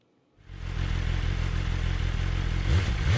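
A motorcycle engine in a video game starts after a moment of near silence, then settles into a steady, fairly loud idle drone that lasts to the end.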